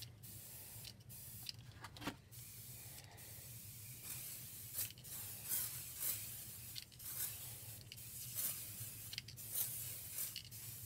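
Pixie spray adhesive hisses out of an aerosol can in a run of short bursts of varying length, close and fairly loud over a low steady hum, with no talking.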